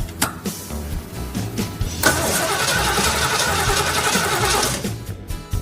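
A Ford Cougar engine cranks over, with a few short starter bursts followed by one sustained loud whirring crank, close and unaccompanied, without catching.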